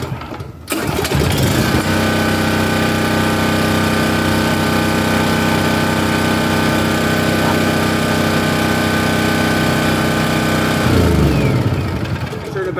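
A Champion dual fuel generator runs on propane, starting up and settling into a loud, steady droning engine note that holds for about ten seconds before winding down and shutting off.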